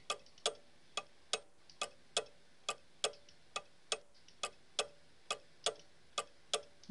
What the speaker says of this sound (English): I hear a clock, but I don't know if it's a cuckoo clock.